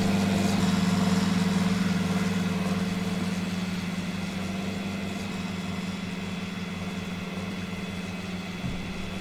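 A repair truck's engine idles in a video game, a steady low rumble with a constant hum that holds evenly throughout and fades slightly toward the end, with no talk over it.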